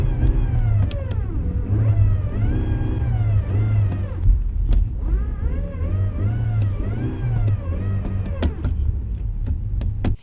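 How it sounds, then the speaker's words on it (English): Manual transmission car in snow, its engine rumbling low while whining tones rise and fall as the clutch bites and the car reverses, with sharp clicks and knocks over it, close by and without speech. "Gonna go reverse. Clutch up to bite."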